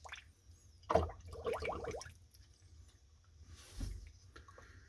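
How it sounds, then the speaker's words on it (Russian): Seedlings watered with a yeast fertilizer solution: liquid splashes and drips onto soil in a short burst near the start, then quieter trickling and a later soft pour, close by with no talk. "И так поливаю всю рассаду."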